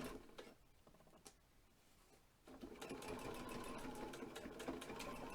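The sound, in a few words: sewing machine stitching fabric backwards and forwards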